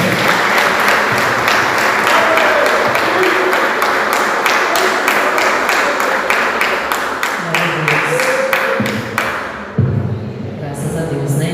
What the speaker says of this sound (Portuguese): Vamos receber a serva do Senhor com as palmas para o Senhor, amém?